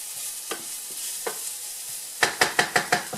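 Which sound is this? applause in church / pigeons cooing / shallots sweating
shallots sweating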